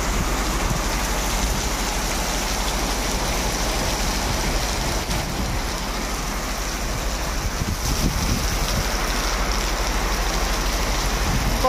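Heavy rain falls steadily throughout, a dense, loud, unbroken hiss with a low rumble beneath and no voices.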